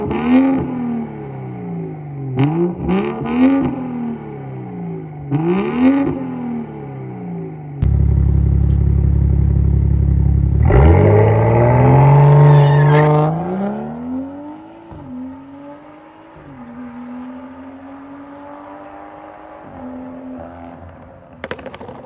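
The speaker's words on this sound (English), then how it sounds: "we're gonna do some revs in sport mode so you guys can really hear how it sounds." BMW M235i engine in sport mode, revved repeatedly with rising and falling swells, then one long high rev that winds down and settles into a steady idle, loud and close.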